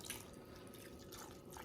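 Beef broth pours from a 4-cup container into a crockpot over beef for steak soup, a steady close liquid trickle and splash running continuously without talk.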